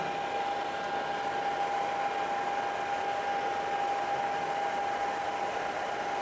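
A cordless 42-volt chainsaw's cooling fan blows air in a loud, steady rush with a constant high whine running through it, unchanging from start to finish.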